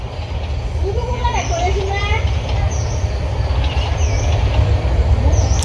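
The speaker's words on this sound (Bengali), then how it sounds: "ট্রেন আজকে ধীর গতিতে যাইতেছে" A train moving slowly along the tracks, heard from on board as a steady loud rumble with faint rhythmic wheel clatter and occasional high squeals, while people talk nearby.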